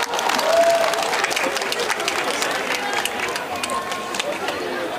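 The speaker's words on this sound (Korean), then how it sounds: "여러분 큰 박수로 환영해주세요" An outdoor crowd at the opening ceremony of a city marathon applauds to welcome the athletics federation president, with steady clapping and a light murmur of voices underneath.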